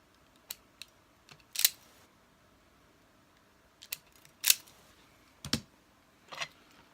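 Scissors or cutters snip the ends of electrical plug wires close by, a handful of sharp separate clicks and snips spaced irregularly against a quiet background.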